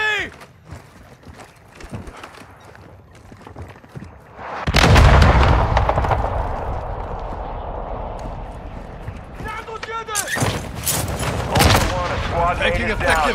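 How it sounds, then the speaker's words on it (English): In a Call of Duty match, a heavy blast near the middle of the clip, likely an RPG hit, is followed by a rumbling tail and then bursts of close gunfire, with scattered shots and talk earlier on. "RPG!"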